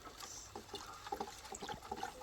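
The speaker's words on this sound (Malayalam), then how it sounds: "ചുണ്ണാമ്പ് ലായനിയിലേക്ക് തുരിശ് ലായനി നമ്മൾ മിക്സ് ചെയ്യുന്നു" Copper sulphate solution is poured into lime solution while mixing Bordeaux mixture, giving soft, irregular trickling and splashing liquid sounds, close by and fairly quiet, with no talking.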